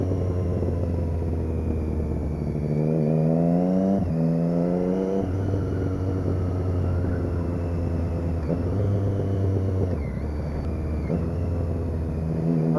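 A motorcycle with a new exhaust runs steadily and loud, its engine note rising and dropping through several gear changes while riding, with constant wind noise and no speech.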